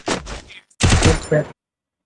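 A UMP submachine gun fires in the battle-royale game Free Fire, in two short, loud bursts separated by a brief pause, then silence.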